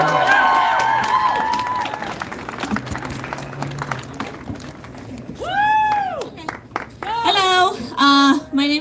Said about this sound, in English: So will we hear a round of applause and welcome of Luna?